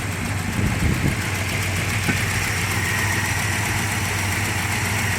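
A 1966 Dodge Coronet with a two-barrel carburetor idles steadily, its engine drone loud and continuous with a low rhythmic pulse and a faint knocking undertone throughout.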